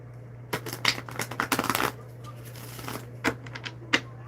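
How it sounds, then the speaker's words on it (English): A tarot card deck is shuffled in short, crisp riffling bursts and taps, close and fairly quiet over a low steady hum, with pauses between. "I'm going to shuffle the deck again."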